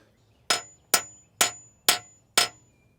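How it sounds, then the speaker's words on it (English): Five evenly spaced, gentle hammer taps with a regular hammer seating a cam and lifter part in a GM 5.3 L83 V8 engine, each a sharp metallic knock with a brief ring, close and alone in quiet. "so I used a regular hammer, and you can just be very gentle"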